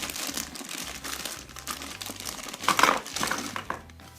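Slime pieces pulled from freshly cut-open packaging give off a steady run of crinkling, rustling plastic, close and moderately loud, with a brief louder crunch partway through and no voices.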